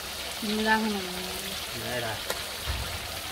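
Meat being sautéed (kosha) in a pan gives a steady, soft sizzling hiss throughout, while a person talks over it.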